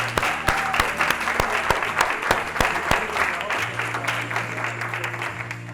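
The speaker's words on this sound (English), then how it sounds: "let's give ourselves a nice round of applause." An audience claps through a round of applause at a sales event, dense steady clapping with some sharp individual claps standing out, holding fairly even before easing slightly toward the end.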